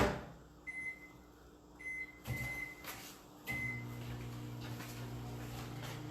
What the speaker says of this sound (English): I'm going to pop this in the microwave for 20 seconds